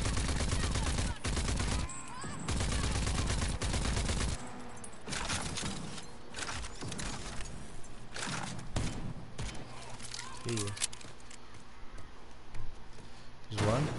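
Gunfire in the video game Rage 2, rapid bursts of automatic shots in the opening seconds followed by scattered single shots and thuds, loud and close, with a voice talking over parts of it.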